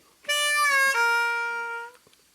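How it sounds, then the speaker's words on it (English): A single harmonica note on the 3 draw, bent down a half step with light pressure, sustains clearly for about a second and a half with a slight pitch dip partway, played alone and close. "3-draw half-step bend's a very light pressure bend"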